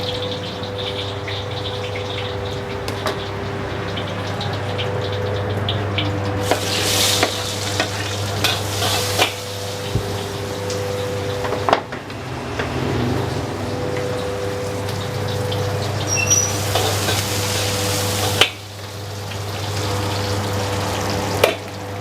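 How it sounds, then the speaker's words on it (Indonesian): Onions going into hot oil for a catering bento dish and sizzling steadily, with occasional stirring scrapes and a constant low hum in the background throughout; nobody speaks. "Minyak udah masuk. Seperti biasa, bombay dulu yang masuk."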